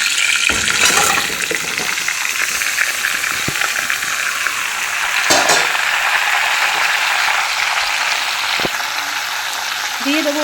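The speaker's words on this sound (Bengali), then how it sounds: "ওই কড়ার মধ্যে আমি দিয়ে দিলাম পাঁচফোড়ন আর তেজপাতা" Panch phoron and bay leaves fry in hot oil in a kadai, giving a steady close sizzle with a few sharp clinks and scrapes over it.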